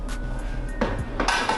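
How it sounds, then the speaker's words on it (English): The bowl of a Thermomix is set into place, giving a couple of close hard clunks and metallic knocks against the machine over a steady background hum. "If you can put that into the Thermomix."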